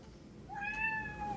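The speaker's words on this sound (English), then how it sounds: "Is that why you're meowing at me today?" A house cat gives a single drawn-out meow of about a second, rising then holding steady, close and clear against a faint background hum.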